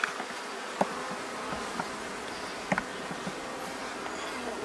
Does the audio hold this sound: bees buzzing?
yes